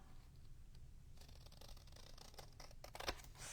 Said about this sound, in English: I'm just going to use the scissors and try to stay straight.